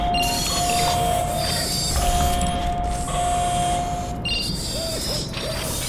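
A steady electronic reactor alarm tone from Portal 2 drones over mechanical clatter and whirring, loud and continuous with brief dips.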